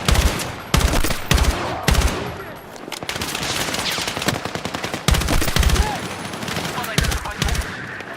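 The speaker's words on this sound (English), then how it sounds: "Suppressing fire!" Sustained automatic gunfire and repeated heavy shots in a Battlefield 6 firefight, loud and dense across the whole stretch, with bursts and sharp impacts layered over constant combat noise and occasional shouted voices.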